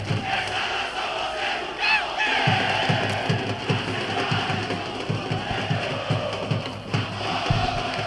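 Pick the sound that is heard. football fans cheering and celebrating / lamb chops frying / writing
football fans cheering and celebrating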